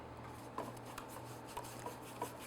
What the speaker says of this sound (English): buttering our pan